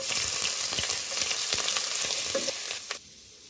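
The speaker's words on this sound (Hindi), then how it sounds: "तो हमने अदरक को कुछ सेकंड फ्राई किया है ऑयल में" Grated ginger frying in hot mustard oil, a steady close sizzle with a few stirring scrapes, fading down sharply near the end.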